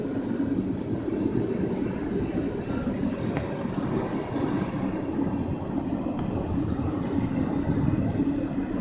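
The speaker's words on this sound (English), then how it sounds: "This is a nice size train." A big train rolls past in Brighton, Michigan, a continuous loud low rumble and rattle of passing cars that holds steady from start to finish, with a couple of brief sharp clicks.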